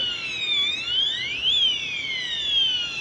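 An electronic fire alarm sounds with repeating, sweeping tones that rise and fall in a steady cycle, fairly loud and alone.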